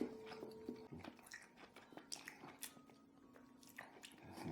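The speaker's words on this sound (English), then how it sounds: "Tough, resilient, fights back, resists chewing." Someone chews tough black licorice bear candies close to the mic, giving quiet, sticky, squishy biting and mastication sounds with small smacks, faint and continuous.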